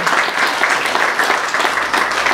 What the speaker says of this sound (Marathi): तर एकदा जोरदार टाळ्या झाल्या पाहिजे या बालगोपाळांसाठी